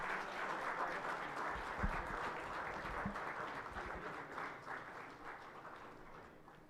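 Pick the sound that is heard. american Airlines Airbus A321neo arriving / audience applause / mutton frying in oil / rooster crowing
audience applause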